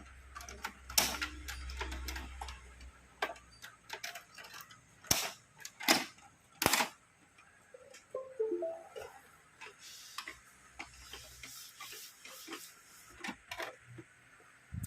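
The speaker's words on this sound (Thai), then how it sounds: "ผมก็จะตลับใส่เข้าไปตัวเครื่องคืนเหมือนเดิมเนาะ" An ink cartridge is pushed back into a Canon MG3570 printer, giving a series of sharp plastic clicks and snaps, close and loud, spaced irregularly across the span with quieter handling rustle between them.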